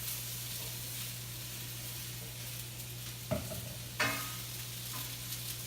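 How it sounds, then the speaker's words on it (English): Fresh-cut vegetables sear in a preheated pan over medium-high heat, a steady close sizzle and hiss with two sharper scrapes and clatters as they are stirred. "put the fresh cut vegetables right in the pan, get them stirring up"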